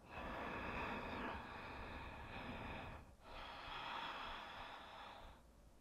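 A deep yoga breath drawn in through the nose, a long, close, airy rush that holds steady for about three seconds, then after a brief pause a second sustained breath flows out, soft and unhurried with no talking.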